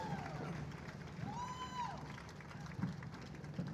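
A hula festival audience cheers and applauds in a steady crowd roar, with a rising whistle-like cry near the middle and a few sharper claps toward the end.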